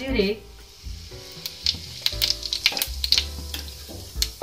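Cumin seeds crackle and sizzle in hot oil in a kadai, a steady frying hiss with sharp pops and ticks scattered throughout, close and moderately loud, with no talking.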